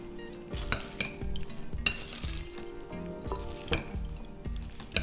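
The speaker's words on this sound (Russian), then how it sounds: "Все это перемешиваю." A spoon stirs potato salad dressed with mayonnaise in a bowl. Soft wet mixing comes with irregular clinks and scrapes of utensil against dish, close and fairly quiet, with no talking.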